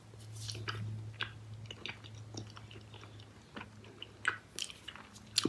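Cold honeydew-flavored Yuki & Love mochi candy being bitten and chewed up close: soft, sticky, squishy chewing with small wet clicks and smacks, quiet and intimate, with no talk.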